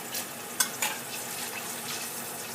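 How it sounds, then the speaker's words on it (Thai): Panang curry paste stir-fried in hot oil in a pan, a steady close sizzle with a couple of sharp scrape-and-stir knocks early on, no talking. "ผัดพริกแกงก่อนนะคะ ให้พริกแกงหอมก่อนนะคะ"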